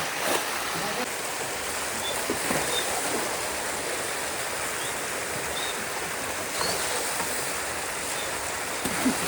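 Water being bailed out of a pool in a stream to catch fish, flowing water with intermittent splashes and sloshes, moderately close and steady throughout.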